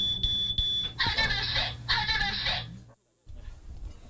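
A household smoke alarm sounds shrill, high electronic beeps, first as short tones and then as two longer pulsing bursts, before a brief silence and faint background noise.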